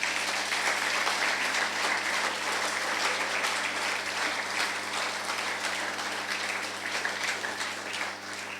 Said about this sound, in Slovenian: Jaz mislim, da je velik aplavz.